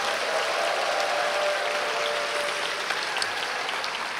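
A large church crowd at a young adults' service claps continuously in a dense, steady roar of applause, with faint cheers and whoops mixed in throughout.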